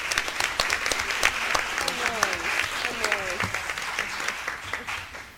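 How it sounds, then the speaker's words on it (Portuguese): A seminar audience at an art information event applauds its speakers, dense sustained clapping filling the room while a voice talks faintly underneath. "pedimos mais uma salva de palmas a todas elas por sua contribuição"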